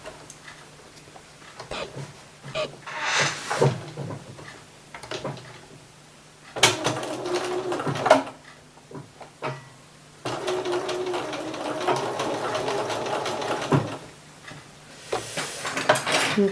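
A sewing machine stitches a trouser fly in close, quiet bursts, with stretches of fast rattling stitching broken by pauses, knocks and handling clatter.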